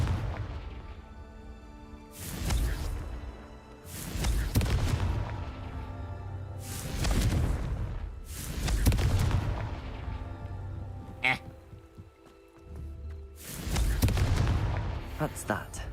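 Confringo fire-spell blasts in Hogwarts Legacy burst out as a series of loud, booming explosions, about five heavy blasts spaced a couple of seconds apart, each trailing off into rumbling decay.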